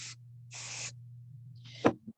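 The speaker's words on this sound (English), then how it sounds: "Now I'm going to spray this." Hairspray sprayed onto a styled vintage hairdo in short hissing bursts: two quick sprays, then a third ending in a sharper click, close and fairly quiet over a steady low hum.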